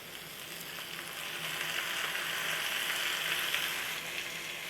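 Chopped teasel gourd hits hot oil in a pan and sets off a steady, close sizzle and crackle that swells a little, then settles, with no voices over it.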